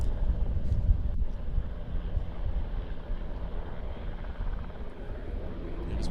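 NH90 military helicopter flying an air show display at Leszno, a steady broadband rotor and engine roar heard from a distance, rough and wind-buffeted, continuous throughout with no talk.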